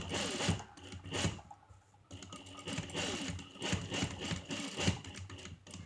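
A sewing machine top-stitches a zip onto fabric for a onesie, running in short bursts of rapid mechanical chatter with brief pauses between, close and fairly quiet.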